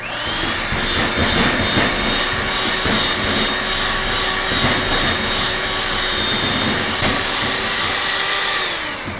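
An electric whisk creaming butter for chocolate chip cookies, a continuous loud motor whine with a steady rhythmic churning, running alone throughout.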